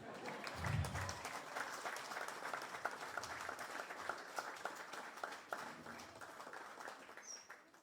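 Residents of Santa Aratack, Guyana, clap together at a community meeting, a steady patter of scattered applause running the whole stretch with faint birdsong in the background.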